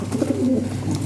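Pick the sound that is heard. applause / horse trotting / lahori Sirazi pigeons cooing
lahori Sirazi pigeons cooing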